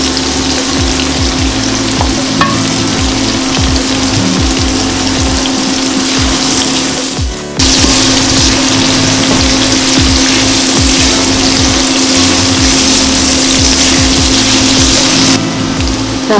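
Garlic added to softened onions sautéing in a pan for chicken nachos, a loud continuous hiss and sizzle with a steady hum, briefly dipping as the ingredient goes in.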